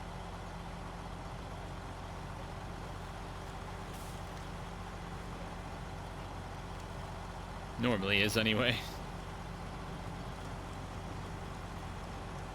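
Truck engine droning steadily while driving through a river crossing in the video game Snowrunner, a constant low rumble with a brief louder mechanical burst midway; a person talks over it.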